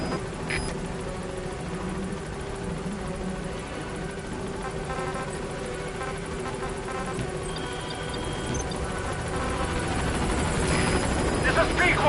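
In Metal Gear Solid 5, the Pequod helicopter nears the landing zone with a steady rotor drone that slowly grows louder, while a radio voice and faint game effects sound over it.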